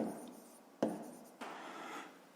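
Pen or pencil writing a math problem on paper, faint soft scratching with two sharper strokes, quiet and close.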